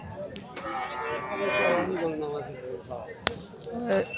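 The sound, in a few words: cows mooing at a cattle market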